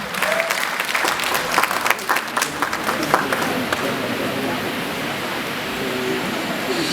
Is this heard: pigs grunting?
no